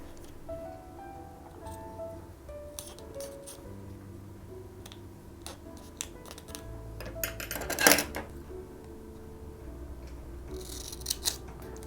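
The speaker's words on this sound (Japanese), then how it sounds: "周りの両面テープを切り落としていきます。" Scissors snip repeatedly around the edge of a plastic sheet, trimming away clear double-sided tape in a series of small, close crisp cuts with brief pauses and a few louder sticky clicks.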